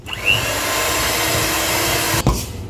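An electric mixer whirs steadily through banana cake batter, a loud continuous motor drone close by that ends with a brief clunk.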